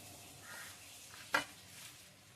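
A spoon stirring a raw onion, pea and spice mixture in a bowl for matar paratha, soft scraping movements with one sharp clink of metal midway, close and quiet with no voices.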